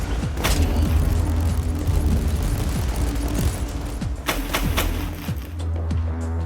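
Deployed turrets firing in the video game Warhammer 40k Inquisitor, a steady stream of rapid gunfire with repeated sharp shots and booms over a continuous rumble of battle.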